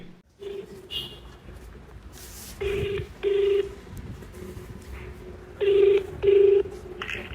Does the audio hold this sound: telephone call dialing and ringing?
yes